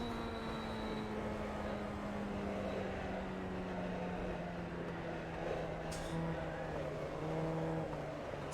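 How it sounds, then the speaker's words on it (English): Tyre noise from a Formula Ford 1600 single-seater in iRacing, a steady droning hum with engine harmonics that runs the whole time at an even, moderately loud level, with no talk over it. "A lot of tyre noise."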